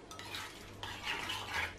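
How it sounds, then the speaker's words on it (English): Beaten egg and salt are stirred through a cauliflower fritter batter in a bowl, a soft continuous scraping and clinking of a utensil against the dish at close range, with no talking. "And now I'm just going to mix that through together."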